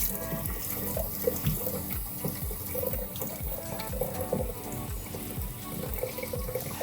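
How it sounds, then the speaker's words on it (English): Water running from the tap of a Bosch 16P pilot ignition hot water system, a steady close splashing flow with a rhythmic gurgling pulse throughout, no voices. "reduce the water flow down to about 2 to 3 litres a minute"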